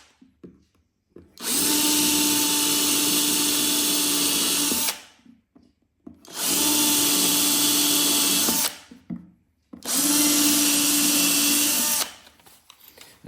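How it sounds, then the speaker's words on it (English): A power drill boring shallow pilot holes, about a centimetre deep, into the plywood of a tool chest, in three loud, steady whirring bursts of a few seconds each with short pauses between them. "pilot drill them"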